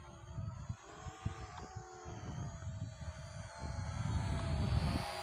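A small budget GPS camera drone flies at slow speed, a steady broad whirring motor and propeller drone that holds throughout and swells slightly louder toward the end, with no talk over it.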